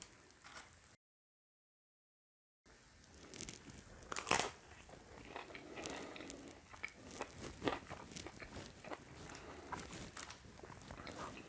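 Crunchy bites into baked camembert with toast, a series of close crisp crunches and chewing sounds spread over several seconds after a short silent gap, with no talking.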